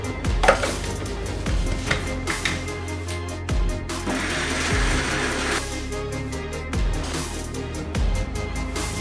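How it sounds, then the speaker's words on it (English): Mixer grinder pulsing as it grinds boiled mutton mince into a fine paste, a loud close whirring motor broken by short stops and restarts with rattling from the jar. "we are going to grind it in the mixie to make it into a fine paste"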